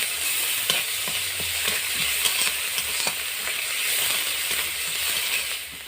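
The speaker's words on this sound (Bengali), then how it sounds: "পেঁয়াজটা বেশ ভালো করে ভেজে নিয়েছি।" Onion paste frying in hot oil for a fish curry, a steady close sizzle with scattered scraping stirs and small crackles throughout, no voices.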